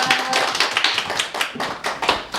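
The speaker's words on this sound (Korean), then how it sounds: "박수는 크게 쳐주세요." An audience at a poetry recitation gathering claps in a steady, rhythmic pattern of close, loud bursts that carry on through the moment with no talking.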